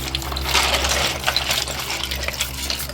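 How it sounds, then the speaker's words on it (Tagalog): Bagungon snails being stirred in hot water, with shells clattering and water sloshing and gushing over a steady low hum throughout, no voices. "hinahalo po nila yung bagungon para lahat po malagyan ng mainit na tubig"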